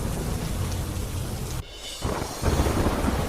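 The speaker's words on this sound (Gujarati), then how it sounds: "જૂનાગઢ જિલ્લાના ગેડ પંથકમાં ભારે વરસાદ" Heavy monsoon rain pours down steadily in Gujarat's Junagadh district, a dense roar of rainfall with a brief dip in intensity partway through before surging back loud.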